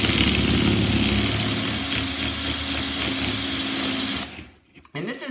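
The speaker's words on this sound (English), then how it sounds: "why are you drilling holes in the underside of the railing?" A power drill bores holes into the underside of a wooden stair railing, whirring steadily and loudly at close range for about four seconds before cutting off, then briefly restarting.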